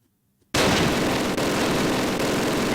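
Dense, continuous gunfire and explosions from a WWII battle at Mortain in 1944 in the Close Combat game, bursting in loud and sustained after a short silence, with a brief dip partway through.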